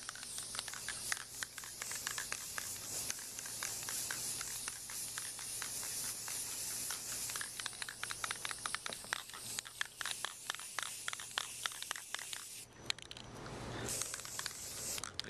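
Aerosol spray paint hisses steadily onto a mini cocktail arcade cabinet panel, close and continuous, broken by brief pauses and short bursts toward the end, with no talking.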